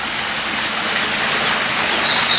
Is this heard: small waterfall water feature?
yes